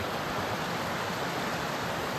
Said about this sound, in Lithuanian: Nu, atvažiavau į tokį upeliuką.